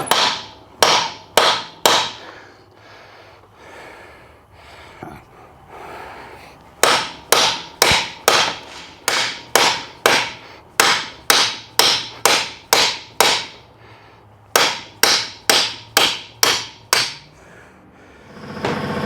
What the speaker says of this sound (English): Now we're just going to beat the living crap out of it with a nice big hammer and drive that out.